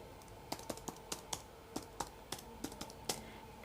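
Keys clack in an irregular run of about fifteen crisp, close presses on a computer keyboard while HTML table text is entered, with no voice.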